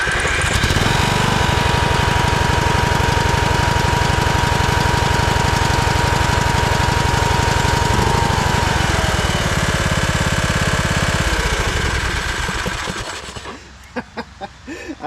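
A Craftsman YTS 3000 lawn tractor engine, suspected of needing a head gasket, runs loud and close with a rough, knocking chug that holds steady for about twelve seconds before cutting out and sputtering to a stop.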